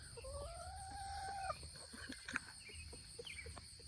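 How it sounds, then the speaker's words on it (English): Chickens cluck softly in a garden while a rooster crows once, a rising drawn-out call early on, followed by scattered quiet clucks at a distance. "let the chickens run through."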